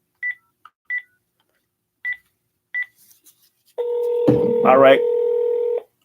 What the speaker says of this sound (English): Can everybody hear the phone?